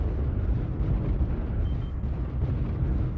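Artillery strike in the video game MechWarrior Online, a sustained deep rumbling roar of explosions, loud and continuous with no voices.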